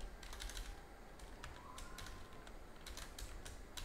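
Keys clatter in irregular bursts on a computer keyboard, close and light over steady background hiss, with no talking.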